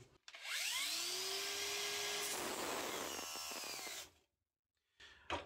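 A Parkside Performance PWSAP 20 Li-C3 cordless angle grinder whines up to speed, then roars steadily as it bites into material, its pitch dropping under heavier pressure before shutting off.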